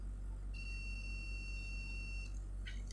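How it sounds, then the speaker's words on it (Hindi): Digital multimeter beeping during a continuity test, a steady high-pitched electronic tone lasting nearly two seconds over a constant low hum, followed by a brief flutter of short beeps. "अगर आप शॉर्ट कर देंगे तो आपको शायद इसमें देखिए बीप का साउंड भी आएगा"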